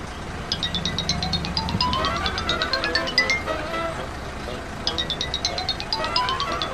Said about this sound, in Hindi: आपका फोन बज रहा है, या तो इसे उठा लीजिए या फिर साइलेंट कर दीजिए।